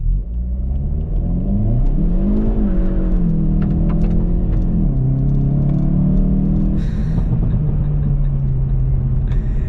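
A 2022 Hyundai i30 N turbocharged engine roars loud and close during a hard launch, revving up hard, dipping briefly as it shifts, then holding a steady high drone.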